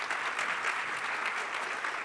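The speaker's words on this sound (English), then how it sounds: "Please give them a round of applause." A health summit audience gives a round of applause for students in the room, a steady, moderately loud patter of many hands clapping without pause.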